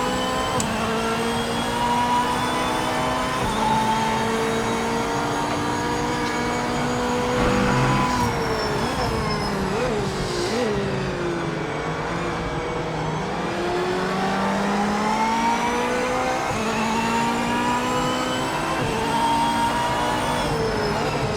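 A Corvette GT3 race car in the video game Project Motor Racing lapping Daytona, its engine droning loudly and continuously, pitch climbing and dipping through gear changes and a brief downshift burble.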